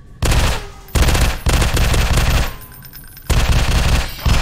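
Shotgun fire in the horror video game Ratman, heard as loud, dense bursts of blasts close up, separated by brief quieter gaps.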